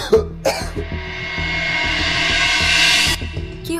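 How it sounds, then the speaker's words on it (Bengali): A person coughs sharply twice near the start, then a broad harsh rasp stretches on. Steady background music plays throughout, in a short AI-made film about tuberculosis set in hot weather. "এত গরমে কাশি কেন হচ্ছে?"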